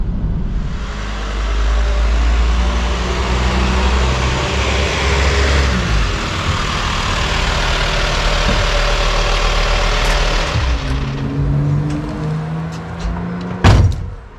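A van's 2.5 engine idles with a steady low rumble, close and loud, ending with a sharp thud near the end.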